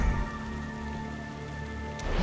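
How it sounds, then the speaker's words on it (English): Steady rain falls on a dreary day in the video game Diablo Immortal, a constant dense hiss with a low hum beneath it and a brief brighter swell at the end, with no speech. "Rain came out of nowhere."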